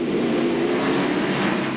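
From inside Morgan Shepherd's Citgo Ford Thunderbird, a NASCAR stock car racing at Martinsville Speedway in 1995, the engine drones loud and steady throughout with no voices over it.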